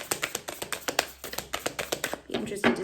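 Oracle cards from a Lightworkers deck being shuffled by hand, giving a run of quick, close papery taps and riffles in an irregular rhythm, with a voice speaking near the end.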